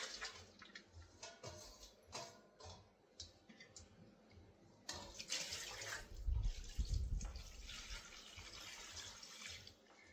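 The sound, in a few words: washing leafy vegetables in clean water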